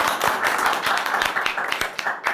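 Audience applause at a comedy team competition show, a dense patter of many hands clapping steadily and fairly loud for a couple of seconds, with no talk over it.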